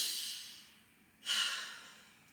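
Two loud, forceful breaths are drawn in through the nose during a tummo breathing exercise, close and hissing. The first tapers off, and the second follows after a short pause.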